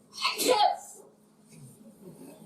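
A single sharp sneeze bursts out close by, followed by quiet murmuring.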